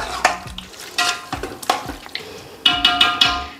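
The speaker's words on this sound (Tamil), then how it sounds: "இப்போ இதிலே வந்து நம்மளுக்கு தக்காளி நல்லா வதங்கிடும்" Tomatoes and green chilies sautéing in a pan, with repeated sharp clinks and scrapes of a spoon against the metal at an uneven rhythm, close and loud, over a light sizzle, no voices.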